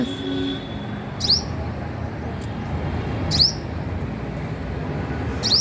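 Small birds give brief high chirps in a home flower garden at dusk, among balsam plants and a flowering creeper. The calls are sparse and spaced a second or two apart over a low steady background hum.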